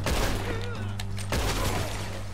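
Gunfire in Red Dead Redemption, a rapid volley of overlapping shots crackling continuously across a couple of seconds amid a dense game soundscape.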